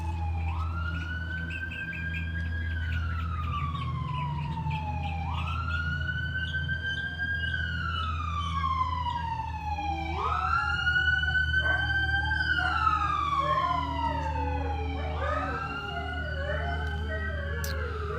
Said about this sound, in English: with the sirens that keep passing by